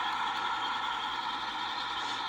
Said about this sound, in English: And you can hear the brakes.